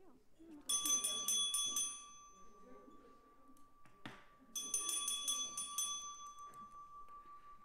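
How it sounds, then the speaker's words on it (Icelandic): A bell in a city council chamber rings in two bright bursts of rapid repeated strikes, each leaving a long ringing tone, with a clunk between them and faint murmuring talk underneath. "Forseti vekur athygli á því hvað þetta ómfögur bjalla."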